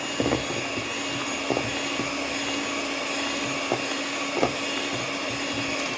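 An electric hand mixer whirs steadily while beating chocolate roll batter, a continuous motor drone with a few soft knocks of the beaters against the bowl and no talking.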